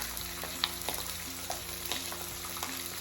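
Chicken skin frying in a pan to make gribenes and schmaltz, giving off a steady, close crackling sizzle with occasional sharper pops over a low background hum.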